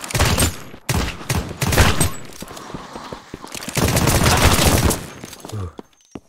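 Rapid bursts of gunfire from a zombie-mode shooter video game, loud and close, firing in several clustered volleys separated by brief pauses, with no talking.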